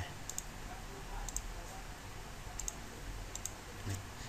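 A computer mouse clicks several times, sharp isolated taps spaced irregularly a second or so apart, close by over a faint hiss of room noise.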